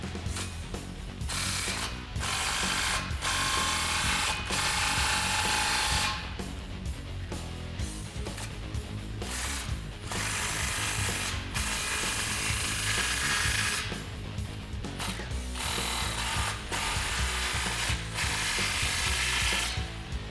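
A socket ratchet tightening exhaust clamps on a 2010-2014 Ford Raptor 6.2L with a Roush single exhaust system, rapid clicking pawl strokes in repeated bursts with brief pauses, close and loud for twenty seconds.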